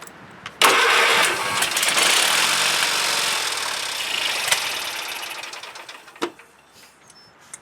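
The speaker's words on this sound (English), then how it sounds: "But I think it's about time to start this guy up, see how it runs. Okay, let's start it up." A Craftsman GT6000 lawn tractor engine running on starting fluid cranks and then catches with a sudden loud burst, roars close by for several seconds, sputters and dies away.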